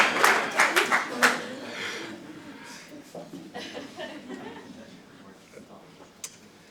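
Scattered audience clapping at a panel discussion, a few sharp claps near the start that thin out, mixed with chuckles and talk.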